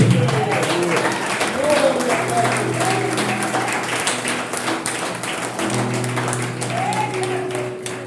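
A church congregation claps during an evening worship service in a large hall, a steady dense wash of applause running the full length with voices and faint music mixed in underneath.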